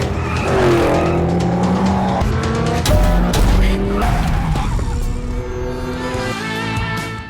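Two Toyota FT86 cars race, their engines revving loud and near with rising and falling pitch as tires squeal and skid repeatedly across the pass, no talk.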